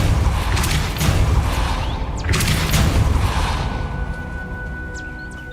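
A Depulso force spell cast in the video game Hogwarts Legacy, heavy thumping booms and whooshing bursts in the first half, then a fading rumble and quieter ambience.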